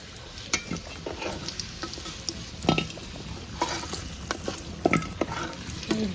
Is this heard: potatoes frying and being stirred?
yes